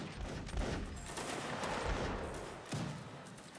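Musket volley fire in the video game Mount & Blade: Napoleonic Wars, a dense, continuous crackle of many shots rolling together, with a sharper report standing out near the end.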